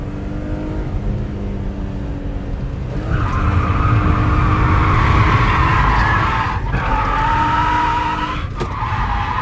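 A car drifts on a race circuit with a partly wet track, engine roaring close as tires squeal in long rising whines, with the loudest squeal in the middle and brief breaks between.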